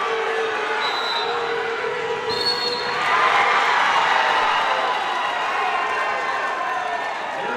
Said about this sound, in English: Big pin over to our left is what you hear on the crowd mic.